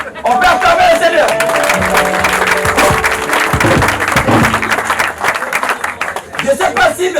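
Guests at a Congolese wedding applaud loudly and steadily, a dense crowd clapping with cheers and chatter mixed in while people talk over it, the clapping thinning slightly toward the end.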